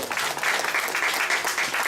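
A church congregation applauds, a steady wash of many hands clapping at even volume throughout, with no talk over it.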